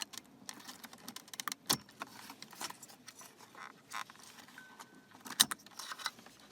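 Car keys jingle and clink while an MMI unit is removed from an Audi Q5's dashboard, producing scattered light metallic rattles and a couple of sharper clicks, close and fairly quiet.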